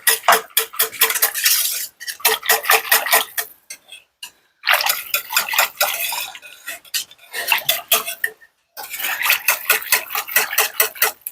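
Gravy being stirred in a pot while chicken sausage and pilaf rice are made, with a spoon scraping and clinking against metal in quick repeated strokes, loud and close, pausing briefly twice.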